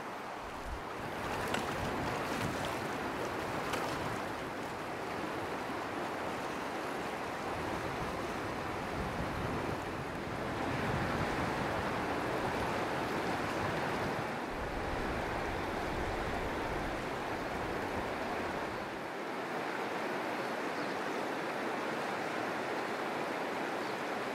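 A mountain river in New Zealand's Southern Alps rushes in a steady, broad roar, loud and continuous throughout with no talking, with a brief gust of wind noise now and then.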